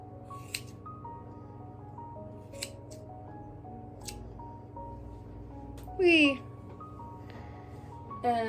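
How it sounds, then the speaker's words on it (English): Scissors snip through wavy hair during a short shag cut on a grown-out undercut, with a few sharp, brief clicks and a louder crisp cut near the end over steady background hum; a person talks. "So we're just gonna make a straight cut right here."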